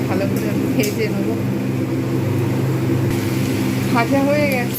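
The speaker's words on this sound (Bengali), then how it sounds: "পেঁয়াজটাকে ভালো করে ভেজে নেবো।" Onion paste fries in a pan for a mixed vegetable kofta curry, with a constant close sizzle and low hum throughout, while a voice speaks briefly near the end.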